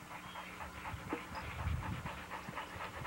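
A dog in a kennel yard pants rapidly in steady rhythmic breaths, close but faint against a low background rumble.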